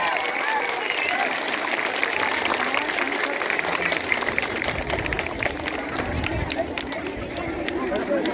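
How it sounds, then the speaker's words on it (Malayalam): An audience claps together at a school's tribal day celebration, a dense crackle of many hands sustained for several seconds, mixed with crowd chatter and murmuring voices. "എല്ലാവരും ഒന്ന് കൈയടിച്ച് നമ്മുടെ സന്തോഷം ഈ അറിയിക്കുന്നു"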